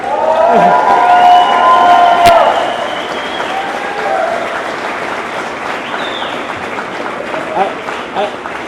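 Applause and cheering from a crowd at a tennis academy banquet, loud and steady for several seconds, then fading to scattered clapping and crowd noise, with voices mixed in.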